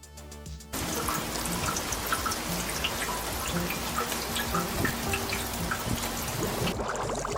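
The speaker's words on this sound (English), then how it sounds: "When it rains, the water flows through the chain, creating a soothing visual and sound effect as the water gently descends." Rainwater runs down a hanging chain of bowls, a steady trickling, splashing flow with scattered drips that starts abruptly after a brief quiet moment and continues evenly to the end.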